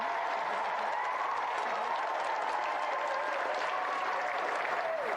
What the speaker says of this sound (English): let's have another round of applause for Emily and Michael Glebe